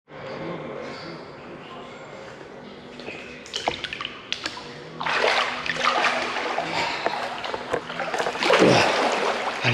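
Water splashes and churns in a campsite swimming pool at Breteuil, Normandy, growing louder in bursts toward the end, with voices talking nearby over the sloshing.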